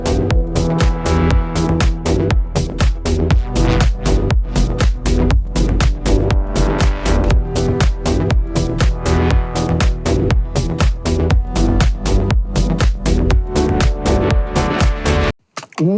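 A dry, unsaturated music premix plays back without processing: a dense, steady full-band mix with a driving beat and sustained tones, loud throughout and cutting off abruptly at the end.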